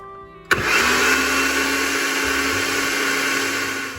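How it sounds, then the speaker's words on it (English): A blender switches on after a brief quiet moment and runs steadily at high speed, pureeing raspberries with the lid on for a raspberry rose macaron filling; a loud, continuous whirring motor with no talk. "And we're gonna puree."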